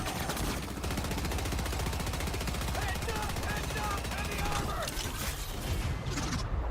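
Gunfire from a video game, a dense rapid rattle of shots running steadily throughout with mechanical clatter, loud and continuous under a faint voice.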